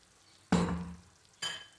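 Ground masala paste for drumstick gojju hits a hot pan, a loud sudden sizzle that fades over half a second, then a second shorter burst of frying as more goes in.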